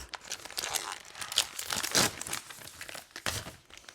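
Crinkly plastic wrapper of a packet of small chocolate cakes, a Swiss speciality, being torn open, with close, busy rustling and crackling throughout and a few sharper crinkles, no talking.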